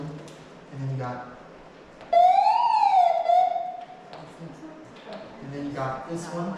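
A NOAA weather radio sounds a loud warbling alert siren for nearly two seconds in a room, with people talking before and after it.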